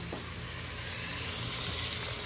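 Spices frying in a pan for dal, a continuous faint sizzle and hiss with a light stir near the start, close and without talk.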